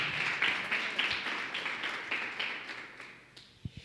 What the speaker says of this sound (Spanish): un lindo aplauso, por favor, con todo el corazón